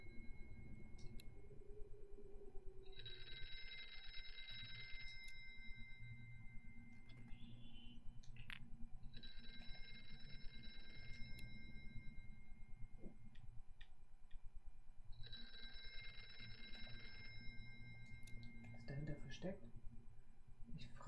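Telephone ringing in the VR horror game Here They Lie, three evenly spaced electronic rings, each about two seconds long, heard faintly over a low game ambience with someone talking in between.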